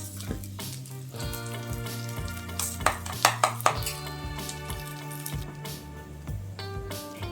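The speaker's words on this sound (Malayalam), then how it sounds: "അതിലേക്ക് കഴുകി വെച്ചിരിക്കുന്ന ബിരിയാണി റൈസ് ചേർത്തിട്ട് ഒന്ന് വഴറ്റാം" Washed biryani rice is sautéed in hot oil in a pot for jackfruit seed biryani, with a steady sizzle broken by clinks and scrapes of stirring, and a sustained musical tone running underneath.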